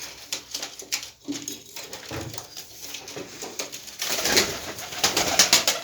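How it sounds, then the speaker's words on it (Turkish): Domestic pigeons cooing in a loft where they have just laid their first egg, soft repeated coos near the listener with fluttering and scratchy movement, growing busier toward the end, with no talk. "şöyle güvercinlerimiz"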